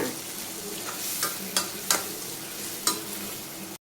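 Tomatoes and garlic sauté in a pan for a Tamil fish curry, with a soft, continuous sizzle broken by several sharp scrapes and clacks of a spoon stirring.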